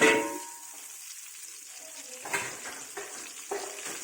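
Nasi goreng frying in butter and plenty of oil in a wok, a soft steady sizzle with a few louder scraping stirs and clinks of a spoon, heard alone.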